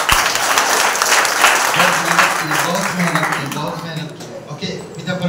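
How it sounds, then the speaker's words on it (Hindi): Church congregation applauding the choir team at a special service, a dense steady wash of clapping that thins toward the end as a voice begins speaking over it. "ये क्वायर टीम को एक जोरदार ताली बताइए।"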